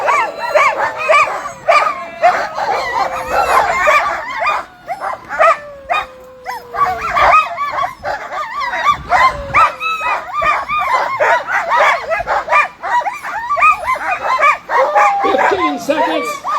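A pack of sled dogs barks, yips and whines excitedly in a loud chaotic chorus at the start of the John Beargrease Sled Dog Marathon in Minnesota, with an announcer talking over the din.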